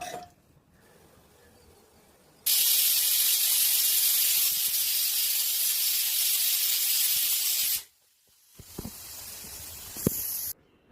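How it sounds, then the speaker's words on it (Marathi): A pressure cooker of chickpeas venting steam, a loud, steady, close hiss that bursts on suddenly and runs for about five seconds before cutting off, followed by quieter clicks and rustles. "आणि कुकरचं झाकण लावून 3 ते 4 शिट्ट्या करून घेऊ"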